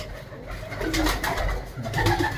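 Pigeons cooing in soft, low, repeated coos over a steady background hum, fairly close.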